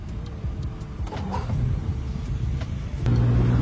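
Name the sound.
1958 Jaguar XK150 engine running after starting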